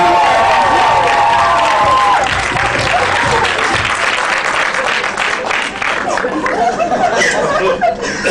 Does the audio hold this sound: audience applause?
yes